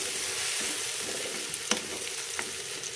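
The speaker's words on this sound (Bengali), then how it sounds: "এবার একটু হালকা হাতে নাড়িয়ে নেব।" Tomato, date and mango-leather chutney stirred gently in a pan, a steady close frying hiss with a few light scrapes and taps of the spoon, no voices.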